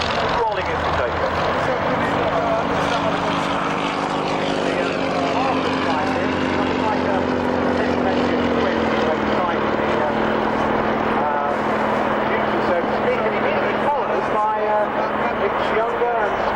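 Army Air Corps Lynx helicopter at the 1996 Middle Wallop airshow, a steady loud rotor and turbine drone holding throughout as it rolls for takeoff, with a commentator talking over it.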